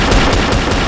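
Dense, continuous automatic gunfire in a CrossFire match, a loud sustained rattle of rapid shots filling the whole moment with no pauses.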